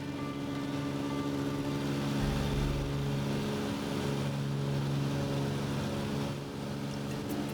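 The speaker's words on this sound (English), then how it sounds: "The round trip takes about an hour by light aircraft." A bush pilot's light aircraft flies over the Australian outback desert, its engine a loud, continuous droning hum with steady tones that hold unchanged throughout, with no other sounds.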